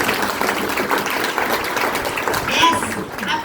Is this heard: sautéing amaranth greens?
no